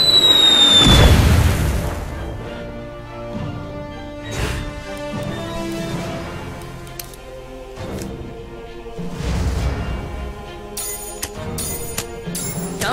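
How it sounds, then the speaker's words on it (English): A big bomb goes off in South Park: The Stick of Truth, with a heavy booming blast near the start followed by a series of further thumps, crackles and pops scattered through the rest. "here comes the big bomb"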